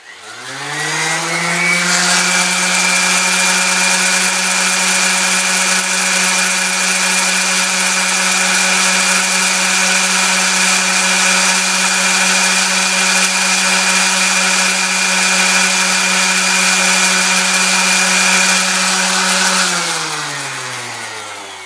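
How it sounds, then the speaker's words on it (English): A DeWalt orbital sander runs steadily with a high, buzzing whine, starting up and winding down after about twenty seconds, loud and close, sanding a mandolin bridge. "orbital sander. Works great."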